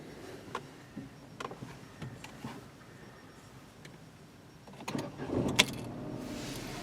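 A Peugeot 208 Allure with the 1.2 PureTech engine is started from inside the cabin. A few soft clicks come first, then a short, fairly loud burst of cranking as it catches, and it settles into a very quiet idle.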